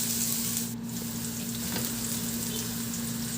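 Garlic and ginger sizzle continuously in a hot oiled pan, a steady close frying hiss with a brief stir partway through, and no talking.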